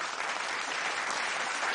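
Studio audience applause on a televised talent show as a first-place contestant is announced, a bright, even burst of many hands clapping, sustained and loud throughout.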